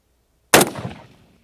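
A single sharp M1 Garand rifle shot cracks close and loud, followed by a brief echoing decay outdoors.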